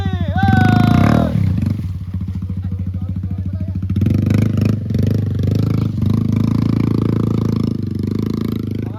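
A motorcycle engine on a trail in Sierra Madre, Tanay, Rizal runs close by with a throaty, pulsing rumble, rising after a brief pause; a voice exclaims at the start.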